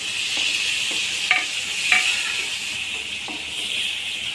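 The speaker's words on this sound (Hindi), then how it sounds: "ये मैंने 3 टमाटर काट लिए हैं इस साइज़ में, ठीक है, वो भी हम इसमें डाल दे रहे हैं।" Chopped tomatoes go into a pan of spice masala over a medium flame for a no-onion, no-garlic potato-tomato curry, giving a steady sizzling hiss with a few stirring scrapes and clinks and no talk.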